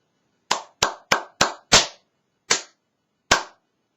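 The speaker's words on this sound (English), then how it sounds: "I clap for you." Seven separate sharp hand claps ring out in a quiet room, close and loud, the first five quick and evenly spaced, then two slower ones after longer pauses.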